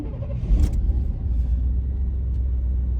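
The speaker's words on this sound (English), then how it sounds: "Let's fire this boy up and take it for a spin." A 1994 GMC Suburban SLE K1500 4x4 engine turns over and settles into a low, steady idle, heard close from inside the cab as a deep continuous rumble.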